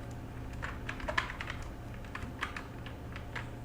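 Quiet typing on a computer keyboard while entering text in the Figma design app, a loose run of light keystrokes with uneven spacing and a few sharper taps, close and alone.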